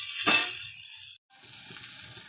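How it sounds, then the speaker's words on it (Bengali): Eggplant slices fry in a pan over a medium flame with a steady, close sizzle and a louder crackling burst near the start. A brief silent break falls partway through, then the sizzle continues. "আমি মিডিয়াম ফ্লেমে রেখে বেগুনগুলো ভাজা করে নেব"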